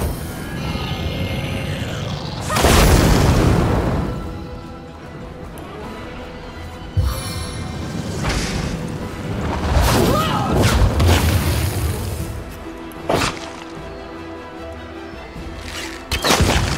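Spell explosions and impacts boom through a turn-based fight in Divinity: Original Sin, several heavy bursts and crashes spread across the stretch over game music and effects, some loud and close.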